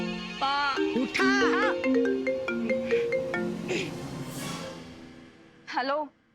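A mobile phone plays a melodic ringtone in a TV drama scene, with bright, repeating musical notes. It rings loudly for several seconds, with a voice briefly heard near the end.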